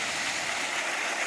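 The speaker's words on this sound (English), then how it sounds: "There's another view of the waterfall." Waterfall in a forest canyon in Shawnee National Forest, heard as a steady broadband rush of falling water, continuous and moderately close with no talk over it.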